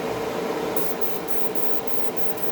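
A Tamiya LP-51 Pure Orange spray paint can sprays in one steady, loud continuous hiss lasting a couple of seconds, close to the microphone with no talking.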